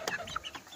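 Chickens from a Joper and Bangkok crossbreed, around 40–45 days old, cluck in a short, close burst of several calls.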